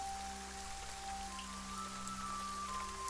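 Steady rain from a video game falls continuously at low level, a soft even patter with a faint hum of game ambience beneath it and no voices.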